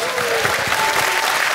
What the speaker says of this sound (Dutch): Applaus voor de taart, dames en heren.